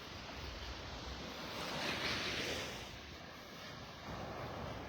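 Ocean waves washing onto the beach at Delnor-Wiggins in North Naples, Florida, heard as a continuous rushing surf that swells and recedes, with light wind noise on the microphone.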